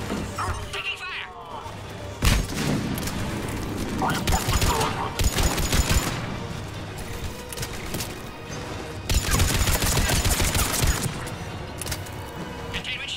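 Heavy gunfire rattles through a frantic firefight in the Mass Effect 3 video game, with sustained bursts, impacts and crashes under urgent shouted dialogue.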